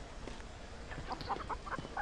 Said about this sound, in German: Ein Huhn!